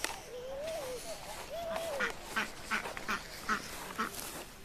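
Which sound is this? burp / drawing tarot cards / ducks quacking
ducks quacking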